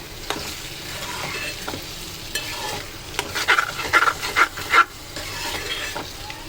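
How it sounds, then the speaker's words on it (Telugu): Tomato and prawn curry simmering in a pan, with a soft steady sizzle and bubbling and a run of scraping spoon strokes near the end, close and moderately loud, with no talking. "కూర అయితే ఉడుకుతుంది చూడండి."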